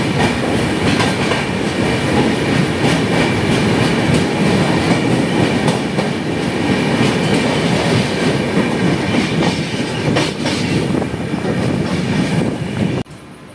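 Passenger train on the Guwahati to Agartala line rolling steadily, a continuous loud rumble with clickety-clack of wagons over the rails, cutting off abruptly near the end.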